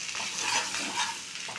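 Pasta stirred in a full frying pan, gentle scraping and tossing over a bright, steady sizzle, close up, with no speech.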